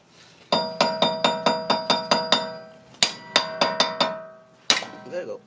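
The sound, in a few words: hammering out a Honda Civic wheel stud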